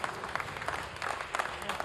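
Applause in a launch control room after payload separation of a Soyuz rocket carrying Falcon Eye 2: a short burst of many hands clapping at a moderate distance, quick irregular claps at low level.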